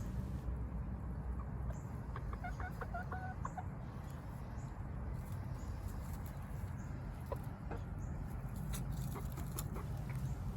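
Hens cluck softly in short clustered bursts outdoors on a cold, windy day, the calls faint and partly buried under a loud, constant rush of wind.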